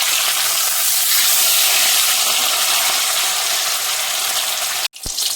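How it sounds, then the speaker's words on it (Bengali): Large salted pieces of katla fish fry in hot oil, producing a loud, steady, close sizzling hiss that runs unbroken before cutting off abruptly near the end. "আমি একে একে ভেজে নেব সবগুলি মাছকে।"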